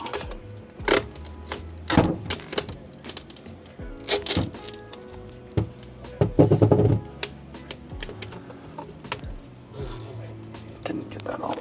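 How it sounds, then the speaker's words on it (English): Tape being pulled off a roll and pressed onto a ventilation fan housing, heard as repeated loud ripping bursts and crinkles at close range. "I'm gonna tape it down because I do not want it falling off."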